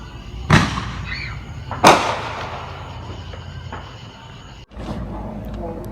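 Two sharp firework bangs go off in quick succession outdoors, each echoing away, followed later by a softer pop amid faint background noise.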